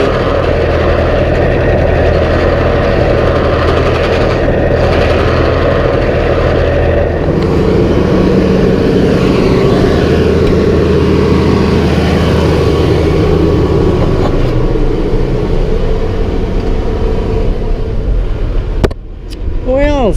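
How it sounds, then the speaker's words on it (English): A heavy tractor engine drones loudly and steadily, heard from inside the cab, a continuous low rumble that never lets up. "Well, Sylvester, boy, you really like this tractor, don't you?"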